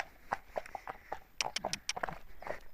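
A five-year-old horse walking out alone on a hack, its hooves clip-clopping in a steady, close rhythm with several sharp, distinct strikes.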